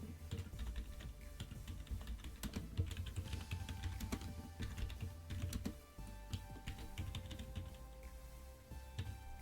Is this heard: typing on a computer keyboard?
yes